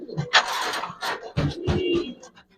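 Pigeons coo at a pigeon farm in Mirpur, Dhaka, where birds are kept with eggs and chicks. The murmuring calls sit close amid scuffling and background noise.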